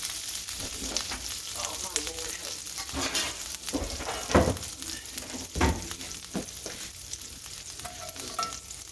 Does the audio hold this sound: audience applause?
no